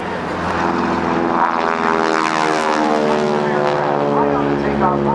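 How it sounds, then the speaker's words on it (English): A North American T-6 Texan with its 600 hp Pratt & Whitney radial engine performs at a 2008 NAS Oceana airshow, its propeller roar loud, steady and droning throughout with a slowly shifting pitch. "It's powered by a 600 horsepower Pratt & Whitney radial engine."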